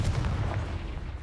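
Explosive spell blasts in the video game Hogwarts Legacy, a deep booming burst of low rumble with a crackling tail, loud and continuous across the short moment with no talk.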